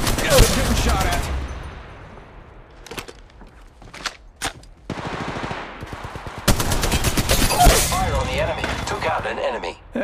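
Rapid gunfire bursts in the Apex Legends mobile game crack out in several loud volleys separated by brief gaps, with single shots and rattling automatic fire and a voice speaking now and then.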